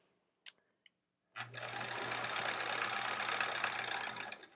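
A sewing machine stitches a quilt block seam in one steady, continuous run of close mechanical whirring, after a few faint clicks and a short silence.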